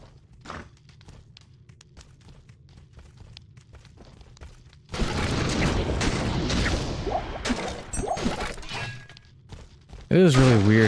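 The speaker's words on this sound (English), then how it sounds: "Corpse explode." Corpse explosion spell in Diablo 2 bursts with a sudden loud crashing, shattering blast after quiet footsteps, followed by scattered impacts and a second loud burst at the end.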